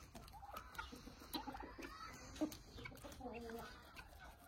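Soft, repeated clucks from a young rooster, quiet and close, with scattered brief voices in the background.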